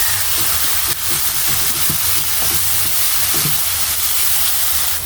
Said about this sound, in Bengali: আমি সবগুলা উপকরণগুলো এখন সুন্দরভাবে কষে নিব